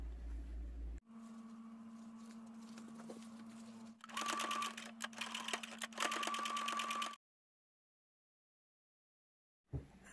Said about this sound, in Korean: 박음질 하겠습니다.